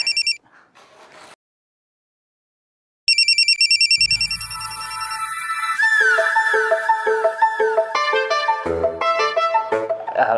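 A phone ringtone chiming in a domestic TV serial scene: a brief electronic tone, a pause of silence, then a bright repeating melodic ring that grows busier and keeps going, loud and close.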